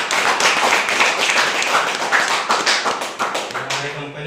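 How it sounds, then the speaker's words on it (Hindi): Applause from an audience at an MI Lifestyle Global company promotional meeting: dense, steady clapping from many hands, loud and close, fading slightly toward the end. "और जोरदार आप लोग की ताली"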